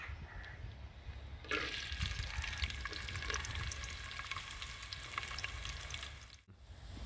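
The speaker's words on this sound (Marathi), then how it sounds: "आता तेल तापल्यावर त्याच्यात हे बघा ही पानं तेजपत्त्याची ती टाकायची आणि हो कांदो बारीक कापलेलो" Bay leaves and finely chopped onion fry in hot oil over a wood-fired stove for a Malvani chicken curry, a steady, fairly faint hiss that rises sharply after a quiet start and runs on evenly, no voices.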